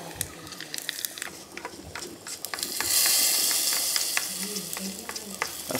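Curry leaves hit hot oil in a small tempering ladle after mustard seeds have already popped, sending up a loud crackling hiss that swells midway, with sharp pops scattered throughout.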